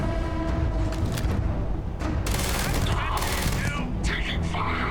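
Sustained rapid gunfire during a firefight in the sci-fi game Starfield, with dense overlapping bursts and volleys that run loud and continuous throughout, punctuated by sharper cracks.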